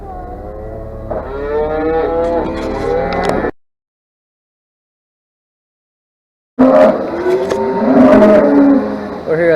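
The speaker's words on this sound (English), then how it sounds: "We're here at the auction barn now, and you can see cows all around" Cattle at an auction barn moo loudly and close by, a long drawn-out call followed by a few seconds of silence, then another bellowing moo.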